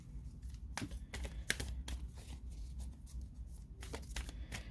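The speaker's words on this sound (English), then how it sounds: "so I'm just going to keep shuffling" Quiet riffling and slapping of tarot cards being shuffled up close, in irregular bursts over a low background hum.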